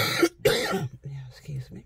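A person with an ongoing cough coughs twice, close and sharp, with a throat-clearing quality, followed by a few quiet murmured vocal sounds.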